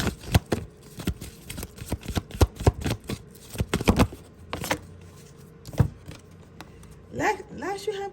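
Tarot cards shuffled by hand, a string of crisp riffling snaps and slaps at close range, irregular and fairly quiet, followed by a voice speaking near the end.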